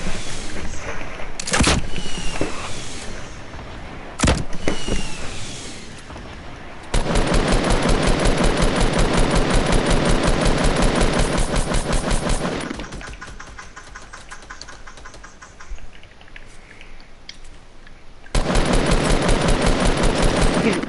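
Rapid automatic gunfire in the video game Blorplite comes in loud sustained bursts with single sharp shots between them, a long quieter stretch in the middle and another burst at the end.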